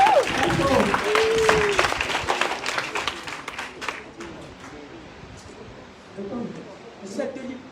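An audience breaks into loud applause and cheering that peaks early, then thins into scattered claps with voices mingling at the end.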